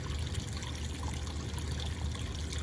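Small garden pond waterfall trickling steadily, a soft continuous splash and dribble of water, fairly quiet and unbroken throughout with no voices.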